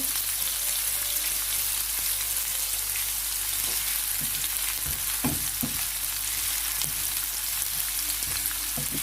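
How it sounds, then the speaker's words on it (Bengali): About a cup of chopped onion fries in a pan until soft, giving a dense, constant close sizzle with occasional soft stirring knocks, no voices. "পেঁয়াজটাকে ভালোভাবে একটু নরম করে নেব"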